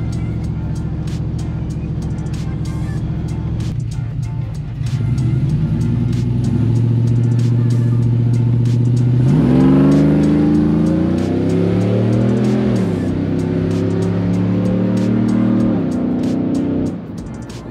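Stock LQ4 6.0 Chevrolet Silverado pickup accelerating hard on a road, heard from the roadside as a steady engine drone that swells into a loud, rising roar, shifts, and climbs again before fading, with no talking.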